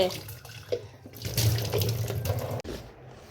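Tap water runs steadily into a home sink during handwashing, a continuous close splashing stream with a brief break near the end.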